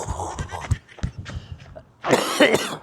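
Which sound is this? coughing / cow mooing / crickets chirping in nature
coughing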